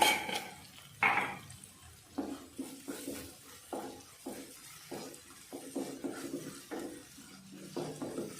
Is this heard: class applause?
no